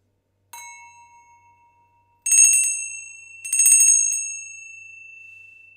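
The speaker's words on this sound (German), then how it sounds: "Sofort auch für dich eine Klangschalentherapie." A singing bowl struck three times, each strike a bright, sustained metallic ring decaying slowly; the first is softer, the last two louder and close together.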